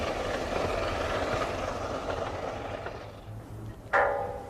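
A Gresley A4 steam locomotive rumbles along the rails in a steady, moderately loud roar that fades slightly before a sharp, brief metallic burst near the end.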